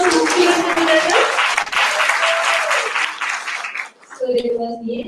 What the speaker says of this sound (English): Please give a round of applause to the speakers and moderators.